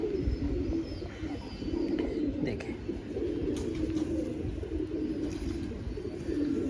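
Pigeons coo steadily and close by in a low, continuous murmur, with someone speaking briefly over them.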